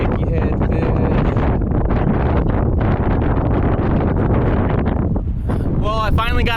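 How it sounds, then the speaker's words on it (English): Heavy wind roars and buffets the microphone on a fishing boat out bass fishing, a loud, steady rush that fills the whole stretch, with a voice briefly speaking near the end. "I don't even know if you guys can hear this because of the wind right now"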